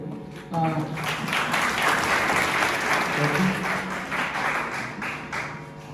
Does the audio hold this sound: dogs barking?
no